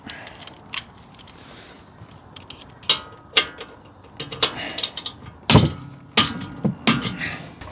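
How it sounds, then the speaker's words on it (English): Breaker bar and socket working a bolt loose on a BMW X5, a series of sharp metallic clicks and clunks at irregular intervals, close up, with no talk. "Get your lovely breaker bar out"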